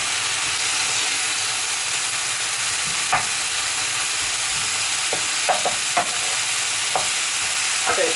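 Ground beef with crushed chili sizzling in a hot pan, a steady, dense frying hiss close up, with occasional scrapes and clicks of a utensil as the mixture is stirred.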